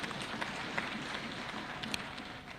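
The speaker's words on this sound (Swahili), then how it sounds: "Na kwa hiyo tumpatieni makofi." An audience applauds the Prime Cabinet Secretary at a public event with Governor Sakaja, producing a steady, dense wash of clapping with a few sharper claps standing out throughout.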